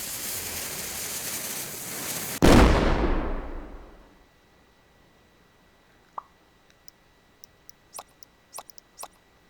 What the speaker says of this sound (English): If you use dynamite in a cannon,